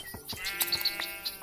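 Minecraft sheep bleating a few times in quick succession, faint and distant, with small clicks of in-game activity around them.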